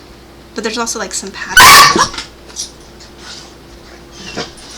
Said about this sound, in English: That was the cat nipping the dog's face.